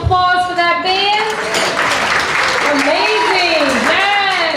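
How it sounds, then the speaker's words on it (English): Luncheon and fundraiser audience applauding a band, a full sustained round of clapping from a seated crowd, loud and steady, with a person talking and voices rising over it. "let's give another round of applause for that band."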